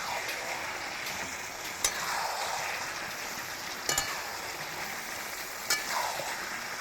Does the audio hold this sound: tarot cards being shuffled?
no